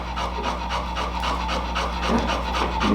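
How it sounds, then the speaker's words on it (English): Heavy, steady dog panting close by, rapid rhythmic breaths continuing throughout without pause, no talk. "You can hear all that breathing"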